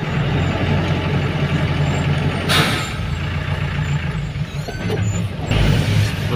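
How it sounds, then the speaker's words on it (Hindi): A truck on a narrow one-lane hill road rumbles steadily nearby with a low engine drone, a brief air-brake hiss and a rattle, as another vehicle passes. "आगे से गाड़ी आ रहा है"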